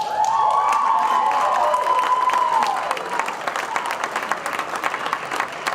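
At an athletic hall of fame awards ceremony, a crowd applauds loudly with a few cheers and shouts, then the clapping thins to scattered claps.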